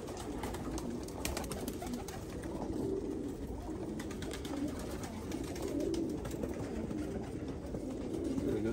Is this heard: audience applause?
no